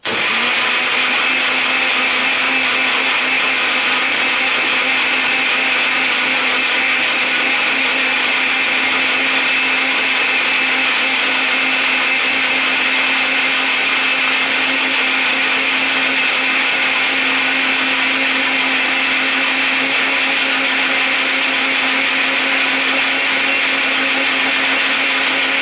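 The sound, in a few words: blender mixing homemade washing powder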